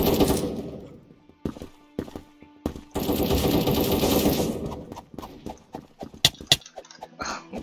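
Gunfire in the Krunker video game, with rapid bursts of shots and scattered single cracks, plus clattering hoof-like game effects and short exclamations from a player.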